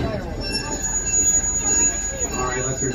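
A heritage train runs at Greenfield Village during the Old Car Festival, giving a steady rumble with faint squeals and a high tonal whine, while people talk over it.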